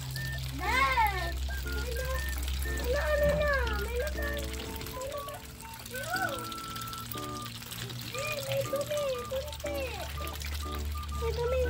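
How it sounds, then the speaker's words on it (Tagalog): Water pours steadily to fill a container outdoors while feeding ducks, a continuous trickle running under excited children's voices and chatter. "Nagpupuno ng tubig."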